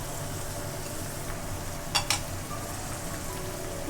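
Carrots and capsicum tipped into a hot pan of vegetables for pizza puff filling, sizzling steadily with a brief scraping stir in the middle, close and moderately loud.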